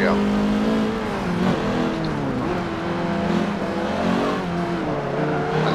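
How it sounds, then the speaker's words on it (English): A race car engine in Forza Motorsport 7 roars steadily at high revs, a loud continuous mechanical drone with shifting pitch, accompanied by a whistling turbo whine. "I love the sound of the turbo."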